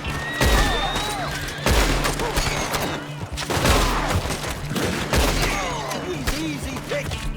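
Gunfire in the Red Dead Redemption 2 video game: several loud, sharp shots at fairly even intervals, each with a booming tail, over background game sounds and voices.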